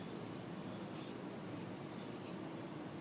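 Steady scratchy writing on a board during a chemistry lesson on ionic formulas, a continuous close rubbing stroke with a few brighter squeaks, heard alone without talk.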